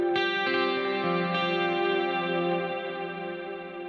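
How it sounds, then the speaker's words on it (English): Electric guitar playing a clean, sparkly session-style tone through a Fractal VP4 with heavy, lush reverb; sustained chords ring and wash continuously with bright shimmering overtones, alone and up close. "Here's some crazy reverb in"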